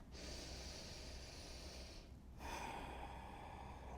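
A long, slow inhale hisses steadily, breaks off briefly, and gives way to an equally drawn-out exhale. The breathing is close and quiet, with no other sound.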